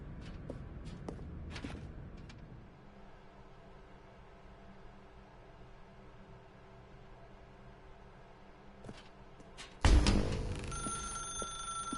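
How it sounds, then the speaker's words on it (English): A telephone rings in the video game The Stanley Parable: quiet footsteps and a low hum come first, then an abrupt, loud electronic ring bursts in near the end and keeps sounding. "Now pick up the phone, said the bucket."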